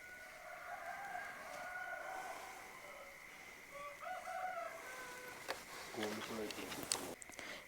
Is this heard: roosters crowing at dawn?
yes